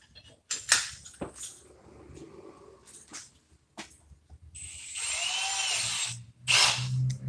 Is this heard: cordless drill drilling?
yes